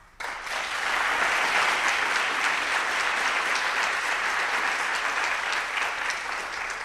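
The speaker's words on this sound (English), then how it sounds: "I'm getting applause." Sustained audience applause at a live radio variety show broadcast, a dense, loud wash of clapping that starts abruptly and holds steady for several seconds.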